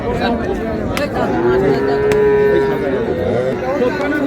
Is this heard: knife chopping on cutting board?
no